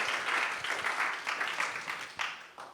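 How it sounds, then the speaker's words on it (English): A small audience at a business talk gives a short round of applause before a Q&A session, with brisk clapping that thins out and fades over a few seconds. "We're going to do Q&A, but before that, just a round of applause for Raj for joining us today."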